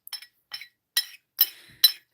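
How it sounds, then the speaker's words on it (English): A spoon clinks against a teacup while pushing tea leaves down, producing five bright, ringing taps spaced about half a second apart, close up and clear with no voices. "Just pushing the tea leaves back down into the cup."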